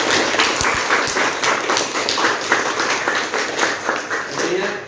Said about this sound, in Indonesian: tepuk tangan untuk Syahril